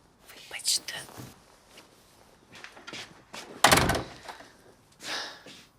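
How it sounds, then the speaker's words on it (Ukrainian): A door is shut indoors with one loud, close thud near the middle, amid quiet whispering voices, soft rustles and knocks before and after. "Двері зачини."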